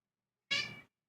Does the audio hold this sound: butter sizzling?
no